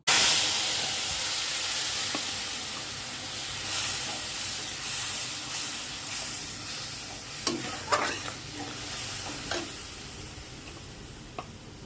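Spice paste for a Bengali katla fish curry frying in a pan, a steady soft sizzle with intermittent scraping and stirring strokes from a spatula, growing more distinct toward the end.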